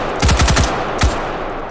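An M16 rifle firing in the VR game H3VR: a rapid burst of five sharp shots, then a single shot a moment later, loud and close, with no voices.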